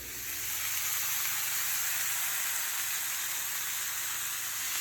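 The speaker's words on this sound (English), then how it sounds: "hopefully you can hear me over the steak cooking" Steak sizzles steadily as it cooks in a pan with butter, a constant bright hissing crackle, close and fairly loud, with no talk over it.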